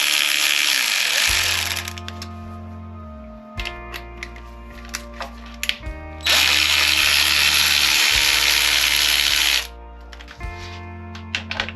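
Power tool spinning out the three bolts of a BMW R1150GS motorcycle's left cylinder guard, two loud sustained whirring bursts separated by clicks and handling taps, close up.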